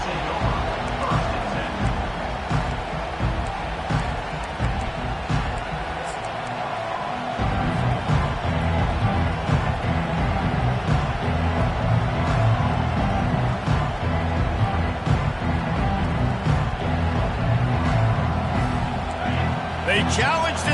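A college football stadium crowd roars in a sustained loud wash of cheering and noise that swells partway through, with a commentator talking over it.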